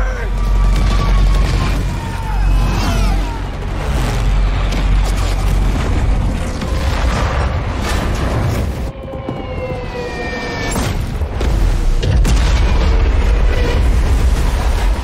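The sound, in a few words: explosions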